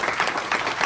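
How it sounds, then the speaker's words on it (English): Audience applause at a community refugee event, a brief, fairly loud burst of clapping with uneven, pulsing bursts of hands throughout. "Give them a round of applause"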